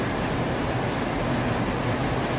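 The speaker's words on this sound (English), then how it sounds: "It's actually raining right now, so if this noise is disturbing us" Steady rain falling outside, a dense continuous hiss with no breaks, filling the background evenly and fairly loud.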